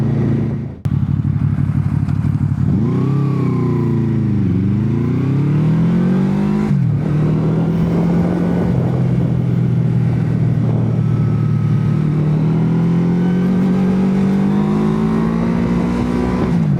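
A motorcycle nicknamed Easy Ghost Rider revs hard on a test ride, its engine note climbing and falling through several sweeping pulls before settling into a steady, rising drone, loud and close with no talking.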